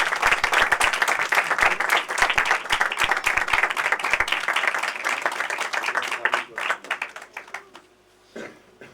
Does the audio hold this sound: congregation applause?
yes